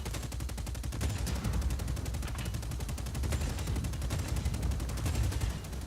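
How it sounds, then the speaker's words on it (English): Rapid, continuous automatic gunfire with heavy low thuds from a tank firing its minigun and rockets in the video game Just Cause 4, loud and sustained throughout. "you can shoot your rockets and you can shoot your minigun"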